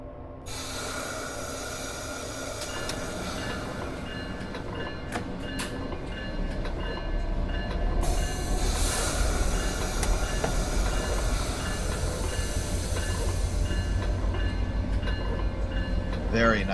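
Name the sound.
MARC commuter train with MP36 locomotive departing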